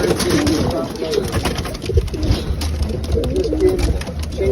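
White doves cooing and fluttering as they are moved from a cage onto a ramp for release, a dense, continuous murmur of coos from many birds close by.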